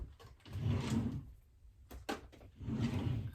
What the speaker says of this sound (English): I have a drawer for tape.